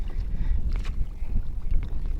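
Strong wind at sea buffeting a small boat, a low rumbling roar of gusts against the microphone with choppy water noise, steady and close, no voices.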